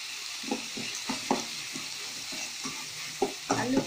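Onion and tomato sautéing in a pan with rock salt, a steady close sizzle broken by several short scraping stirs, the strokes landing at irregular intervals with no voices.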